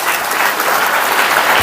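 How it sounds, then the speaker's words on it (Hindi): A church congregation at a Hindi Christian service bursts into loud, dense, continuous applause that fills the whole moment without a break. "जोरदार ताली बजा के"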